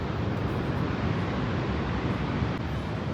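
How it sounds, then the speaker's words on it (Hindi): A flooded mountain river roars at night during a disaster, heard as a loud, constant, rumbling rush of water from below, dense and unbroken, with no voices. "यहाँ नीचे आप नदी का शोर सुन रहे होंगे।"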